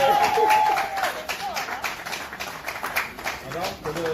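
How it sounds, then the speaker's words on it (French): Wedding guests applauding together, a lively burst of crowd clapping that swells at first and then carries on unevenly, with voices calling out over it. "Est-ce qu'on peut applaudir, s'il vous plaît?"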